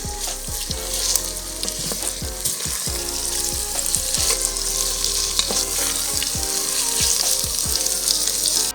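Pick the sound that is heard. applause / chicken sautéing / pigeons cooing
chicken sautéing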